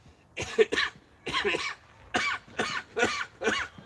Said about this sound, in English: he just coughed in the mic the whole time